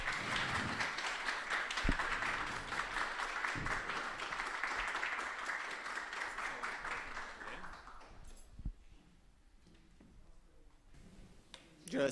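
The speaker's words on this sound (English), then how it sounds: "we should welcome Dani with a round of applause" An audience at a climate accelerator demo day claps in a round of applause for about eight seconds, fairly even and moderately loud, then fades into a quiet room with small handling noises.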